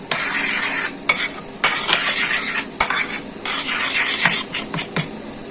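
A spoon stirs dhokla batter in a metal bowl just after Eno is added, with close, repeated scraping strokes and clinks in an uneven rhythm.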